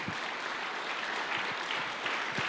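A church congregation applauds during a service, with a steady, dense wash of clapping from many hands sustained throughout.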